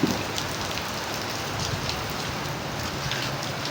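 Rain falls steadily on surfaces outdoors, a dense, even hiss of patter with scattered louder drops, constant and fairly close, with no talking.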